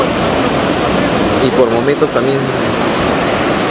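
Rough sea surf rolls in at the Carquín fishing cove under a bad-weather forecast, giving a steady, loud, rushing wash of waves while someone speaks over it.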